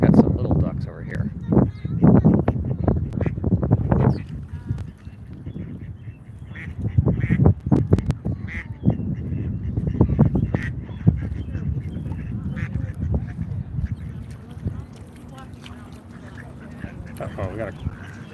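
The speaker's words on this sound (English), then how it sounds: "These ducks are being very vocal over here." Ducks in a Washington DC park quack loudly and repeatedly in close, overlapping bursts, with human voices talking now and then underneath.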